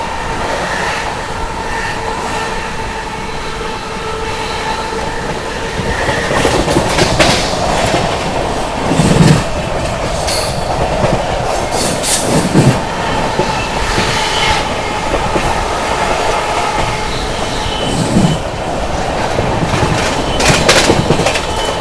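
The Prayagraj Humsafar Express rushes through Firozabad railway station at speed without stopping, a loud, steady roar of wheels on rails with rhythmic clickety-clack and occasional sharp squeals and thumps throughout.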